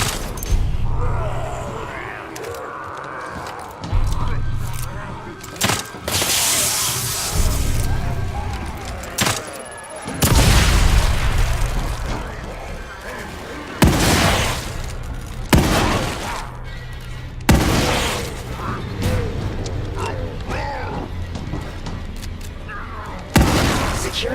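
Heavy booms and shattering blasts from an explosive bolt and shotgun fire in The Evil Within 2 erupt repeatedly, several loud broadband bursts spaced seconds apart over ongoing game noise.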